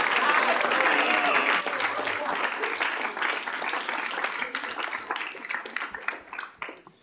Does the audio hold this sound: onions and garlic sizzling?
no